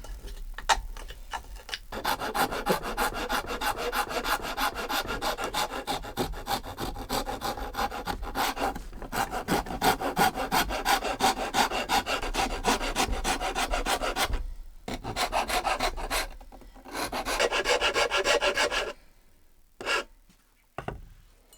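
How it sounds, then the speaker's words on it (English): A rasp is dragged back and forth across a wooden axe handle as it is shaped by hand, making loud, rhythmic, gritty scraping strokes close up, with a few brief pauses between bursts. "I will start by shaping up the handle roughly in the shape of this"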